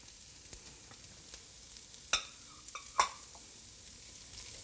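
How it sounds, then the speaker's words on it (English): Three garlic cloves sizzle faintly in a pan of leftover fat over medium-low heat, with a few sharp scraping stir sounds as they are swirled around. "I'm just gonna swirl them around for about half a minute."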